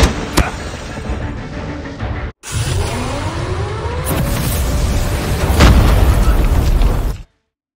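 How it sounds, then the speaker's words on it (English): A grenade blast in a Call of Duty video game lands as a loud, close boom, followed by a sustained roaring rumble and further heavy bursts before the sound cuts off abruptly. "Grenade!"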